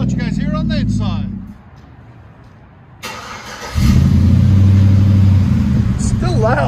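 Chevy Silverado 5.3L V8 with a modified exhaust revving, heard from inside the cab: a deep, loud engine rumble that swells as the throttle is blipped, with people talking over it.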